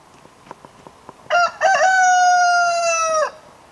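A rooster crows once in a chicken pen, a loud, close, sustained cock-a-doodle-doo that follows a few faint clucks and taps.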